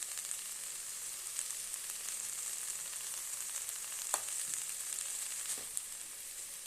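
Arai keerai greens with salt frying in a pan, a soft continuous hiss of sizzling with a few light scrapes from stirring, quiet and close with no talking.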